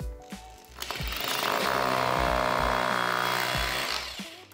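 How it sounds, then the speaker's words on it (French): A rotary hammer drills into tile grout, a loud sustained grinding roar with a hammering buzz that rises over several seconds, then cuts off near the end. "Là par exemple, du joint de carrelage, c'est un peu compliqué et je vais aller chercher mon perfo."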